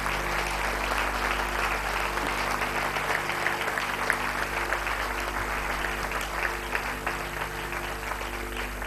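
Sustained audience applause for graduating students at a medical college convocation, dense steady clapping from a large hall crowd over a low hum, continuing evenly throughout.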